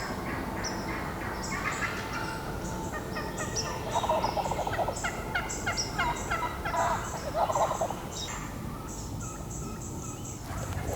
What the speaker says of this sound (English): Before we even got our decoys out, we could hear turkeys around us.